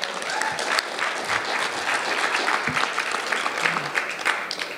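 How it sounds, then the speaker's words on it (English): A steady wash of audience clapping at a talk on Indigenous regenerative economies, dense and continuous for the whole stretch without letting up. "Let's clap for that."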